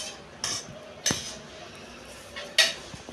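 A spoon clinks sharply against a bowl three times while methi chana pickle is stirred, each clink followed by faint scraping under a quiet background.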